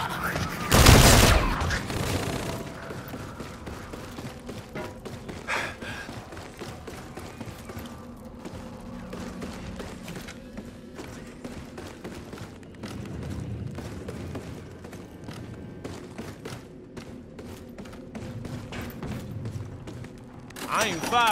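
Gunfire in Call of Duty: Infinite Warfare zombies mode, opening with a loud blast, then a long stretch of scattered shots, mechanical clanks and game effects at moderate level, with a player talking throughout.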